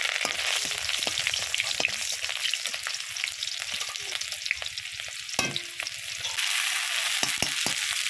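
Green chillies and nigella seeds frying in oil in a pan over a stove give a dense, continuous sizzle, with sharp crackles and pops scattered throughout and occasional stirring scrapes.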